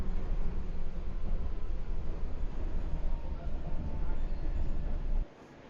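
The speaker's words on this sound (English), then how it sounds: "Trams depart every couple of minutes" Airside airport tram ride, a steady loud rolling rumble and hiss inside the car that cuts off abruptly near the end as it stops.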